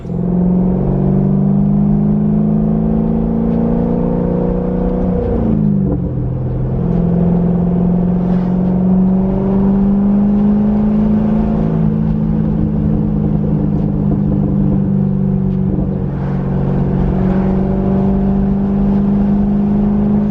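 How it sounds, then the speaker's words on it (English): A C6 Corvette fitted with an SLP Loudmouth exhaust idles with a deep, steady rumble close by. The engine is blipped twice in sharp revs that rise and fall back to the burbling idle, with no one speaking. "So now I can actually get like the full grasp of how the car sounds, and absolutely love it"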